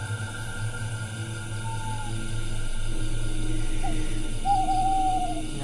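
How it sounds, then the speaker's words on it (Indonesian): A bird calls a few times at a distance, short hooting notes and a drawn-out whistle over a steady low hum. "suara burung, cuman kalau posisi suara burung seperti itu tuh aneh"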